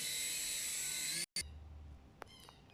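A small Fakon plastic toy helicopter flies indoors with a loud, high-pitched whirring buzz that cuts out abruptly partway through, followed by quieter room sounds and a couple of faint clicks.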